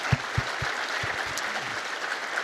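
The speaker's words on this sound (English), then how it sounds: "Can we please have a round of applause for all 11 of our presenters today" Steady applause from a conference audience after a session of lightning talks, with a few sharp nearby claps standing out early on.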